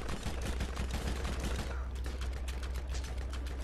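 Enemy gunfire in the video game Borderlands, a dense rattling burst of rapid shots with fast, irregular cracks layered over a low rumble, at moderate volume with no voice over it.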